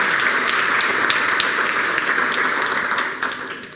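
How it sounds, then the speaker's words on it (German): An audience at a Chaos Communication Congress lecture hall breaks into loud, sustained applause for a speaker, the dense clapping holding steady before tapering off at the end. "einen herzlichen Applaus für Thomas Barth"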